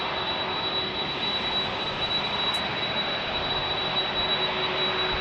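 UPS Boeing 767 jet airliner at San Diego airport, a loud, steady roar of jet engines with a constant high whine, heard up close with no talk.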